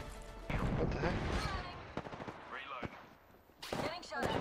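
Rapid bursts of gunfire in a video game, sharp repeated cracks in quick succession with a brief lull, loud and close, with players talking over the shots.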